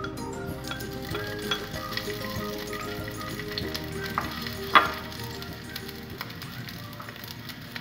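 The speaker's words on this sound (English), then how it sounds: "Once it is hot, we go in with sausages." Sausages sizzle and fry in a pan with a teaspoon of oil over full heat, a steady close crackling hiss throughout with one brief metallic clink midway.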